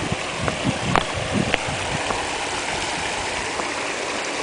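Water flows steadily in a backyard pond, a continuous near, broadband trickle and splash with a few faint brief knocks, no voices.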